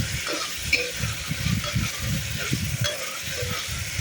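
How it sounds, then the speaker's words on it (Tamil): Onions and a handful of mint fry in a pan for mushroom biryani, stirred vigorously: a dense sizzle under busy, rumbling scraping close by. "நல்லா கிண்டி விடுங்க"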